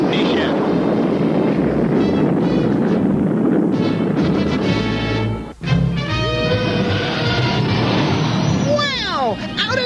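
A cartoon rocket engine roars loud and steady after ignition, a continuous rushing blast that briefly drops out and then resumes, with whooshing and whistling sweeps near the end.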